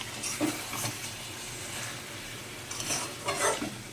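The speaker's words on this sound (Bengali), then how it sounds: "তাহলে দেখো চিকেন চাপিয়েছি এদিকে চিকেন হচ্ছে" Chicken cooks in a pan, with a soft, steady sizzle. A few brief scraping stirs break through, and nobody speaks.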